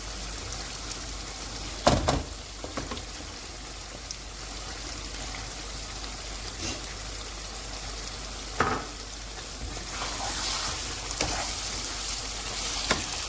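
Chicken kabab karahi frying in a pan after fresh coriander, green chilies and ginger slices go in, a steady close sizzle with a few sharp clatters and stirring scrapes.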